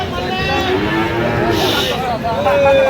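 A Sahiwal-Gir mixed bull calf on a farm lowing in a long drawn-out moo, close and loud, with people's voices and murmur around it.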